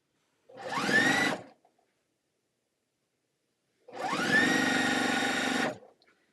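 A sewing machine stitches quilt seams in two bursts, a short run of about a second and then a longer steady run of nearly two seconds, with a pause between them and no talking.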